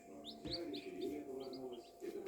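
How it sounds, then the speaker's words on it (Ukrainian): Small birds chirp in short, high bursts, several calls scattered over a soft background hum, fairly close. "Ось такі горобці."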